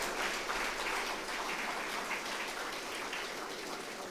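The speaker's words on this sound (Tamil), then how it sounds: "அவங்களுக்கு ஒரு அரங்க நிறைந்த கைத்தட்டலை நீங்கள் தரணும்." A hall full of audience members applauding at a college annual day event, steady close clapping at moderate level, sustained without speech.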